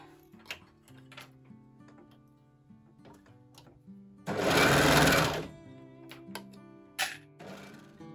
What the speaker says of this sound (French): Allez, on va surjeter tout ça.